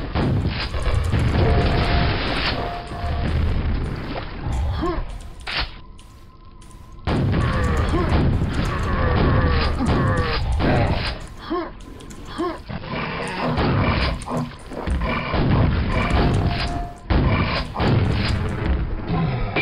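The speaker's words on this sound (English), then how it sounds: "Suddenly, I have a grenade launcher." A grenade launcher booms in Quake 1, with heavy explosive thumps repeating at irregular intervals. A brief quieter gap comes early, then the loud blasts and rumbling resume, with no talking.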